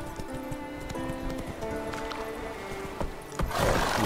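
Roach the horse gallops in The Witcher 3, with a fast, even run of close hoofbeats that ends in a louder rushing burst.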